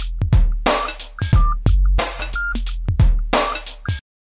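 A punchy electronic drum loop with kick and snare hits and short high-pitched beeps scattered between beats, loud and close, ending abruptly.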